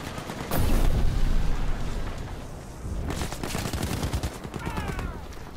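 Gunfire in the video game Battlefield V Firestorm, dense rapid bursts and booms of automatic fire, loud and close, with a brief lull midway before another volley.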